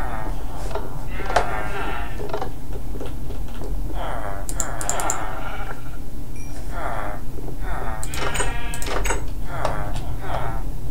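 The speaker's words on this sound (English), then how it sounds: "There's a sheep in the house." Sheep bleating indoors in a blocky survival game, several short wavering bleats spread across the stretch over a steady background hum, with a voice talking faintly in places.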